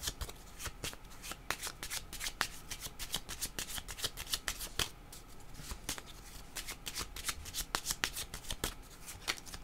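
Tarot cards being shuffled by hand, a quick rhythmic riffle of crisp slaps and flutters repeating steadily, close and fairly quiet, with no talk.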